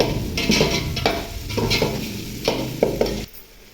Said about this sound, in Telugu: ఈ మసాలా అంతా మష్రూమ్స్కి బాగా పట్టే వరకు చక్కగా ఒక 2 మినిట్స్ బాగా కలుపుకోవాలి